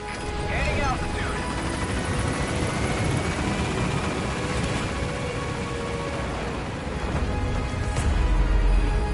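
A helicopter in Metal Gear Solid V lifts off and climbs, its rotor drone steady and close while in-game radio voices speak over it.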